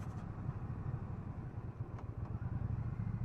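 Triumph Bobber Black 1200 motorcycle cruising on back roads, its steady low engine rumble and wind noise running continuously and close throughout.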